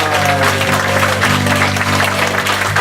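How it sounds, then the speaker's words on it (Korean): Church congregation claps together in a steady burst of applause during a worship service, the dense clapping sitting over a sustained low organ or keyboard chord. "영광의 박수 올려드립니다."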